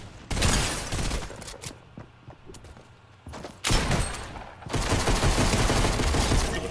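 Loud, close shotgun blasts and gunfire in the video game Fortnite. Heavy bursts start and stop in clusters, with brief lulls in between.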